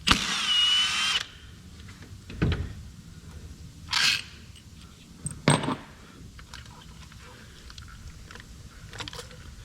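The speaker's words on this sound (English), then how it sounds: "we can come in here with our T40 little socket bit and carefully remove these two bolts" Valve cover bolts on a Chevy 1.8 Ecotec engine are worked loose with a T40 socket bit: a dense burst of tool noise opens, then sharp metallic clinks and taps follow at intervals, close by, with quiet gaps between.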